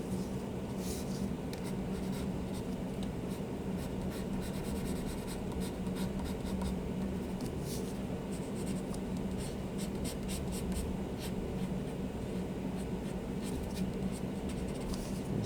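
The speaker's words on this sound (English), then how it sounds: "just tightening up my pencil work over here" Graphite pencil scratching and rubbing across paper while sketching a cyclops skull, a steady soft rasp with short strokes throughout, close and fairly quiet.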